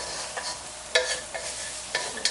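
Spices toast in hot oil in a pan for a Kerala-style egg curry, giving a soft, continuous sizzle broken by several short, bright scrapes of a spoon stirring against the pan.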